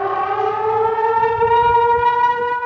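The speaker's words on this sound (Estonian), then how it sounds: "Selliselt kõlas ohuteavitus Paides." A civil defense warning siren sounds in Paide, Estonia, a loud, steady wailing tone with rich harmonics that holds at a nearly constant pitch, carrying alone with no voices.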